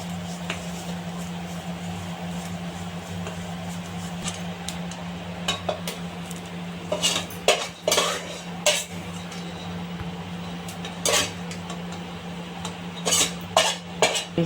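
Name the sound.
frying and stirring in ghee in a pan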